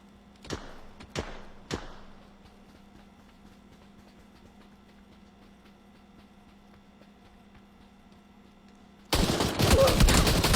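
Three separate gunshots ring out one at a time in a video game shooter, each a sharp crack with a short tail, spaced roughly half a second apart over a steady low hum, and a loud burst of noise follows near the end.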